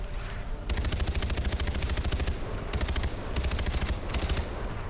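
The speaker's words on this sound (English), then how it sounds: "Always been pretty good shot with a grenade launcher" Rapid, repeated loud blasts from a grenade launcher in the video game Far Cry 4 come in dense volleys, separated by brief gaps.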